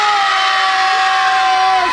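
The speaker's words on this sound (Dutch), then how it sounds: "nog een keer zo hard als we kunnen Sinterklaas roepen" Crowd of children at a Sinterklaas farewell event shouting together: a dense, loud, sustained chorus of young voices, with a steady high tone running through the noise.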